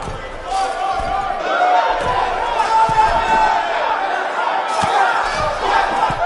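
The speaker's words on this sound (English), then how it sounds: "The crowd here in Austin, Texas, really into this one" A packed wrestling crowd in Austin, Texas, roars and cheers continuously after a cage match finish, with dense shouting voices sustained at a loud, steady level throughout.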